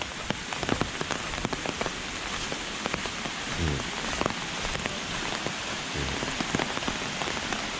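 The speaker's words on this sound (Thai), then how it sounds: "เพราะว่าฝนมันตกตลอด เลยพรำๆเลยนะ" Steady rain pours down at Chan Ta Then waterfall in Chonburi during a tropical storm, a dense continuous hiss of drops striking surfaces with scattered sharper taps and no voices.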